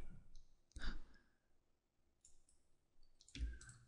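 Faint computer mouse clicks during 3D modelling work in Blender, a couple of quiet isolated taps separated by near-silence, heard close.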